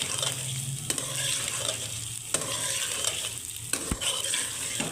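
Potatoes frying with onions in a pan for an aloo curry, a strong steady sizzle with a few sharp spoon knocks against the pan at intervals, heard close with no talk.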